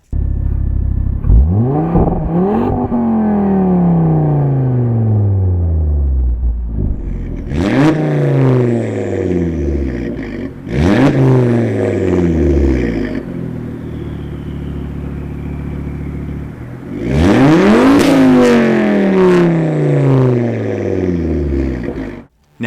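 Volvo C30 hatchback with a 2.5-litre five-cylinder turbo engine revs hard in four separate bursts, each climbing steeply then falling away, loud and close with no talking.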